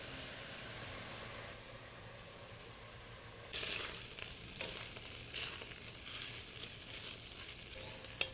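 Ground beef and sausage sizzle and fry in a pot for lasagna soup, starting as a steady low crackle and jumping to a louder, brighter sizzle with scattered pops, close and with no talking.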